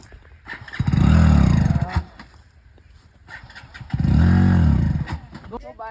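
A motorcycle engine starts and revs loudly twice in quick succession, each burst a rising then falling roar lasting about a second, with people talking nearby between them.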